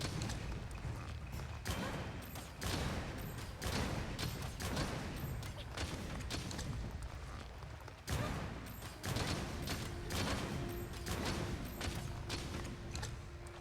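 A gunlance in the game Monster Hunter Rise fires shell after shell, giving sharp, repeated blasts in a fairly quick irregular rhythm over about thirteen seconds, moderately quiet overall with a brief pause midway.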